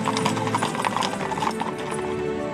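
Horses of the U.S. Army Old Guard clip-clop steadily on pavement, a close, rhythmic patter of hooves with no talk over it.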